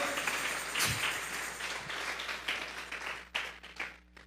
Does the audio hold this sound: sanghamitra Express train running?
no